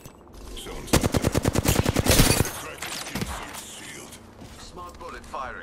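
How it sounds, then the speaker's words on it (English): Rapid automatic gunfire in the video game Apex Legends rattles out in one loud, close burst of about a second and a half, followed by quieter mechanical clicks and game sounds, with a voice talking around it. "bullet firing"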